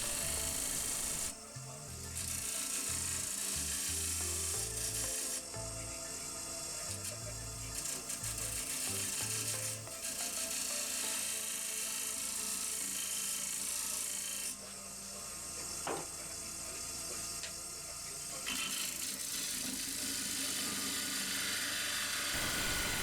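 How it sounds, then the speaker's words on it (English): Wood lathe turning a beginner's bowl while a 1/16 inch parting tool cuts a scribe line, a continuous whirring hum with bursts of harsh scraping that stop and restart, close and steady. "I'm just emphasising the diameter of the scribe line with the 1/16 thick parting tool"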